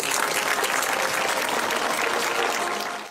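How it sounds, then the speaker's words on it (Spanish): A congregation applauds inside a church of the Virgin of Fátima, a thick wash of many hands clapping steadily and loudly before tapering off at the very end, with no speech on top. "Un aplauso a todos nosotros."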